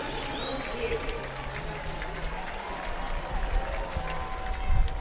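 A stadium lacrosse crowd at Koskinen Stadium roars after a goal, a dense sustained wash of cheering and applause at a distance, with a commentator's voice running over it.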